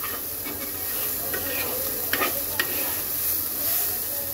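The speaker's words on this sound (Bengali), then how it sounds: "এবার পেঁয়াজটাকে একটু হালকা ভেজে নেব।" Chopped onions and whole black cumin sizzle steadily in a hot pan as a fish dish is prepared, a constant hiss with a couple of soft stirring knocks and no voices.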